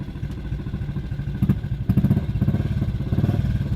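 A BSA motorcycle engine idles with a loose, percolating beat, its low pulses thumping evenly and fairly close, picking up slightly toward the end.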